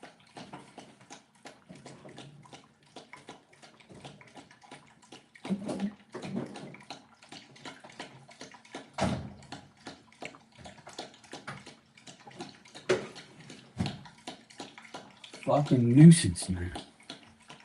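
A dog laps up water indoors with repeated wet slurps and splashes, while someone talks irritably throughout over the drinking.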